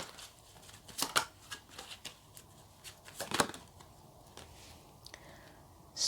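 Tarot cards are riffled and shuffled in a quiet room, with two louder bursts of crisp card flutter among soft slides and taps as a card is drawn, close and alone.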